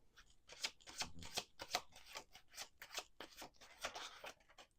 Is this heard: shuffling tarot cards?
yes